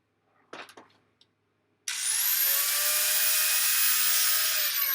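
A lightweight power saw spinning up and cutting pallet wood for a custom bed, a few light knocks first, then a loud, steady high-pitched whine starting suddenly and running to the end.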